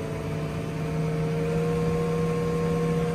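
A steady, droning tractor engine hum with the PTO running at 540, a constant low tone and a faint whine, holding at a high, even speed throughout without pauses.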